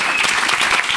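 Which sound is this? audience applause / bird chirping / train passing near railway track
audience applause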